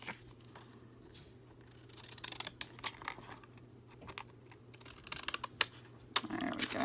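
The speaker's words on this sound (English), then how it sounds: "I'm going to cut the edge off of this just because it is" Scissors cutting the edge off a wide journal page, a series of quiet snips and paper rustles growing busier toward the end over a faint low hum.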